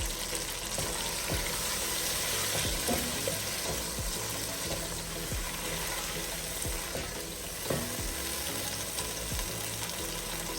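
Peas and two potatoes sizzling in hot oil with cumin seeds, a loud continuous crackling fry with scattered pops and light stirring knocks throughout.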